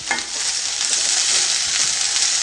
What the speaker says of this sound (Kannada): ಇದನ್ನು ಇವಾಗ ಹುರ್ಕೊಳ್ತಾ ಇದ್ದೀನಿ ಬೆಂಡೆಕಾಯಿನ ಹಾಕ್ಕೊಂಡು